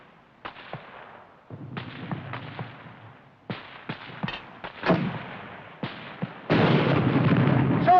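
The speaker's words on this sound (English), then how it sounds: "Hurry up with that mortar." Mortar fire in a World War II battle scene from a 1951 war film: a series of sharp, separated booms and cracks at varying distances, ending in a heavier, sustained roaring burst.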